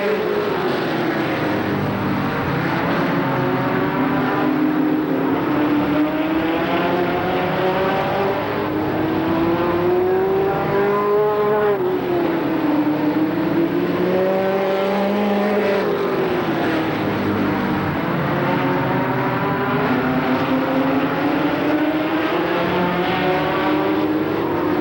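Race cars lapping Shadybowl Speedway in 1992, a loud, sustained engine roar whose pitch rises and falls in long sweeps as the cars pass through the turns, with no talk over it.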